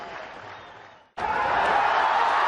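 Cricket crowd and Pakistani players applaud at a 1999 Sharjah Cup match against India, a softer wash of clapping that briefly drops out before surging back loud and steady.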